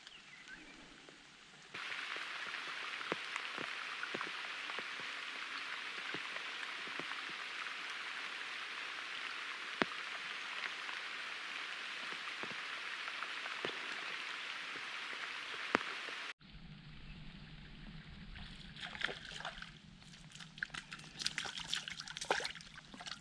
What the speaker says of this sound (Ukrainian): Тим паче, що дощ не завершується.